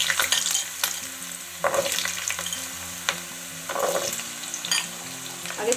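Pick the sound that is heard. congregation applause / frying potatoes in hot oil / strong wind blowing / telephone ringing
frying potatoes in hot oil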